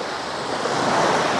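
Sea surf washing onto the central beach at Anapa near the Anapka river mouth, a steady broadband roar of breaking waves with slight swells, close and fairly loud, no voices.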